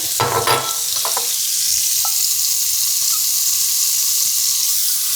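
Chopped medium onion drops into a hot soup pot for mulligatawny, a stirring clatter at the start giving way to a loud, steady sizzle that continues alone.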